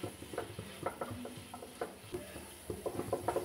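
Fried vegetables with soy sauce and vinegar stirred in a pan, repeated light scraping strokes of a spoon over a soft sizzle, close and steady.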